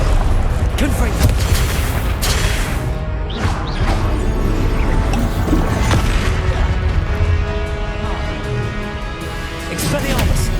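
A Confringo blasting spell in the Hogwarts Legacy game on PS5 sets off loud, dense explosive booms and crashes amid continuous combat noise, with a voice talking over the din.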